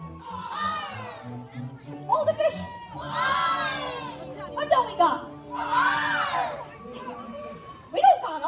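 Children in a theater audience at a pirate show shout together in several loud rising bursts, overlapping cheers and yells swelling and fading between quieter moments of chatter.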